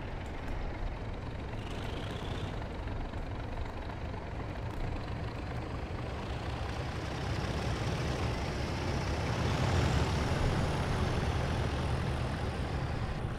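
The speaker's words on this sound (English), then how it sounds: "you can just hear the power if you hear those engines" Heavy truck engines drone steadily, a continuous rumbling roar at the China clay export site that swells slightly louder toward the end, with no talking.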